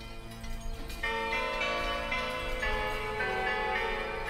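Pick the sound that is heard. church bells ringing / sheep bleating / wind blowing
church bells ringing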